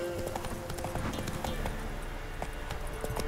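Roach the horse galloping in The Witcher 3, a fast, steady clip-clop of hooves at close range, continuous and rhythmic across the whole stretch.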